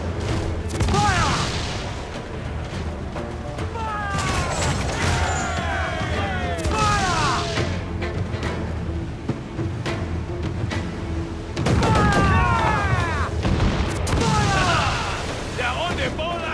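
Naval cannon fire during a ship battle in Assassin's Creed 4 Black Flag: deep booms and crackling volleys roll under a steady roar of battle, while crew members shout loudly throughout.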